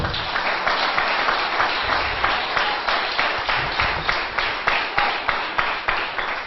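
A church congregation claps in unison during a sermon, with a steady, regular rhythm of sharp claps over a dense wash of applause that carries on for several seconds.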